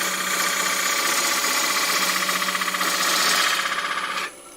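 Bowl gouge cutting a spinning wooden bowl on a lathe, a loud steady rattling chatter that holds for about four seconds and then stops abruptly near the end.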